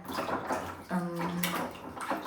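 Raw mangoes being washed by hand in water for pickle, with sloshing and splashing in a basin, a short tonal clink partway through, close and moderately loud with no talking.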